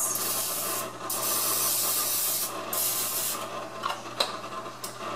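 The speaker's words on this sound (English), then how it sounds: "So you need to go ahead and use the spray of your choice" Cooking spray hisses in several close bursts as it coats the cups of an egg poacher, with short pauses between sprays.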